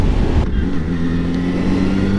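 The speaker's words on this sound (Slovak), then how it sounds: "Nech sa porádne prehraje motor." A motorcycle engine idles steadily while warming up, its low rumble continuous and close throughout, with no one talking over it.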